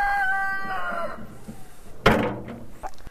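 Chickens fed apple pressings, with a rooster's fading crow and a few clucks, then a sudden dull thump or knock partway through, followed by quieter scuffling.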